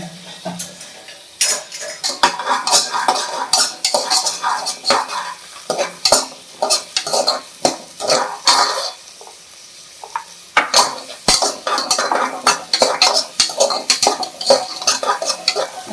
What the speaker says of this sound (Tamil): நல்லா வெங்காயம் வதங்கையும் காய்கறி போட்டு வதக்க வேண்டும்